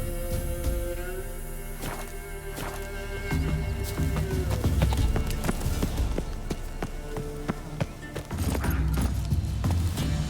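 Roach, a horse in the Witcher 3 game, gallops with irregular hoof clatter under a busy music and ambient game mix, steady and fairly loud throughout.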